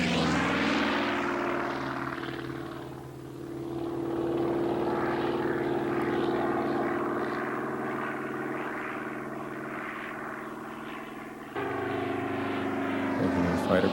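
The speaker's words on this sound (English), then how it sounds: "Making a fighter pass over the field and a pull-up and a roll." Restored Zero fighter plane making a pass over the airfield, its propeller engine droning loudly, dipping briefly, then swelling again as it pulls up and rolls overhead.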